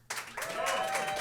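Audience applause for a live performance by Thee Phantom and the Illharmonic Orchestra, broad clapping that starts abruptly and holds steady and fairly loud, with a voice talking over it.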